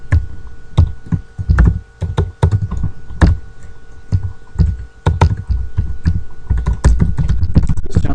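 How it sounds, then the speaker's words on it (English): Close typing on a computer keyboard, an uneven run of sharp key clicks and heavier thumps in bursts with short pauses, with no talking over it. "Let me type that out."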